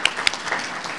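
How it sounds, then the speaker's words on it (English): Audience applause at a conference launch event in Pakistan, a brief burst of clapping from a seated crowd with a couple of sharper claps up front. "A big round of applause for everyone here."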